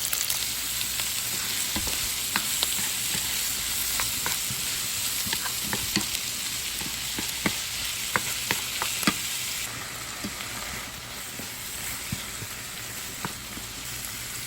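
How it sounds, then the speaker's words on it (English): Sausages browning in a skillet on a stove eye, a steady crackling sizzle close by with scattered pops and occasional stirring taps, no voices. "I pushed the skillet up a little bit so the heat can directly hit these sausages"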